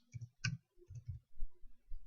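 Computer mouse clicks at a desk during a software installation: a short run of crisp, close taps, some doubled, spaced unevenly across a couple of seconds, heard alone in a quiet room.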